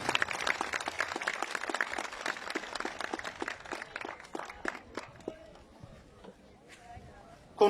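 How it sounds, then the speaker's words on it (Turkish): Applause from the audience at the opening of a multi-purpose sports field, a run of distinct claps that thins out and dies away by the midpoint, followed by quieter ambience and a sudden sound at the very end. "alkışlarınızla bir kez daha teşekkür ediyoruz."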